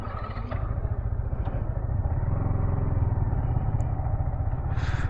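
A Yamaha R15M motorcycle pulls away with a close, steady engine drone that rises slightly as it gets going, continuous for several seconds with a brief higher whine near the end.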